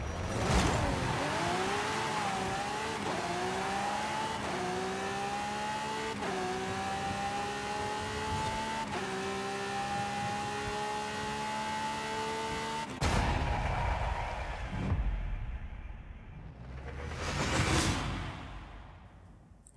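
A drag car in Forza Horizon 5 launches hard, its engine note climbing in pitch through several quick gear changes, then it cuts off sharply and is followed by a rushing whoosh.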